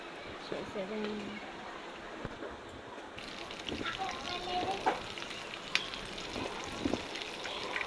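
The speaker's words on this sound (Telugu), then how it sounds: "చికెన్ పీసులు వేగిపోయినాయండి." Chicken pieces for pakoda sizzle and crackle in hot oil outdoors, a steady frying hiss with occasional pops, while a person talks over it.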